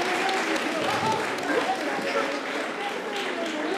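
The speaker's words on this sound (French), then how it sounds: "vous pouvez les applaudir s'il vous plaît" Audience applause at a school eloquence contest semi-final: sustained crowd clapping throughout, fairly even and moderately loud, with some voices mixed into the noise.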